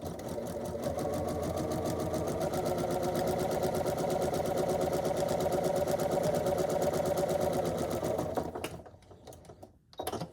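A sewing machine stitching quilt block units runs in a fast, steady mechanical patter for about eight seconds, close and fairly quiet, then stops with a few faint clicks and handling noises.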